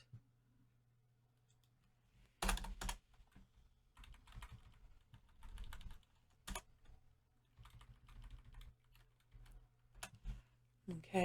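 Computer keyboard typing in bursts of quick, close key clicks, with a few louder strikes and pauses between runs over a low steady hum.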